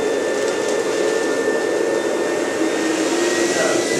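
Vacuum sucking the air out of a cushion during a demonstration, a loud steady whooshing roar that holds constant and close for the whole stretch with no pauses.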